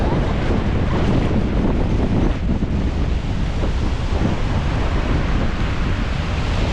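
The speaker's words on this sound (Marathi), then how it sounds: "दोन्हीकडची लाटा तुम्हाला मारतात बघा इकडची पण या पण लाट येते दोन्ही लाटा येतात" Sea waves crash on the shore at Alibag with a steady, loud roar of surf and wind buffeting the microphone, continuous without pause.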